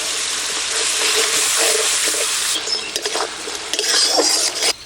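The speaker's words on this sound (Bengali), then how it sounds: "এবার মশলাটা ভালো করে কষিয়ে নেব" A spice paste of onion, dried chili, ginger and cumin with turmeric and salt frying in a pan for boal fish curry, a loud, steady close sizzle with stirring scrapes near the end, no talk.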